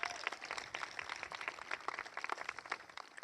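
An outdoor crowd at a community center ribbon-cutting ceremony applauds the national anthem singer, with dense, continuous scattered clapping at moderate volume throughout.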